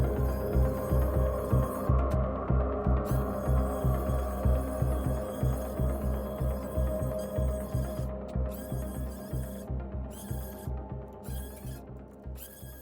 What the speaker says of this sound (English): I chucked that up in my Milwaukee M12 die grinder